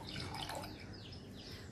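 Strained water is poured into a glass while preparing a summer cooler drink, a faint, steady liquid trickle with soft splashing and no talking.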